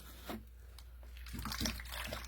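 Water from a Dollar Tree cup being poured in for clay wall reinforcement work, a faint soft splashing trickle that comes and goes over a quiet low hum, with no talk over it.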